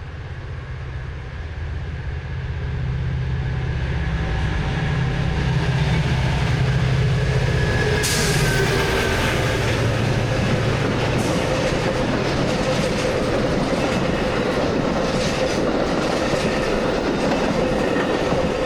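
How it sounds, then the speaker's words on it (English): A Metra express commuter train passes on the center track in rain, a loud continuous rumble with rhythmic clickety-clack of wheels that swells after the first few seconds and holds steady close by. "Definitely Metra. Must be an express train on the center track."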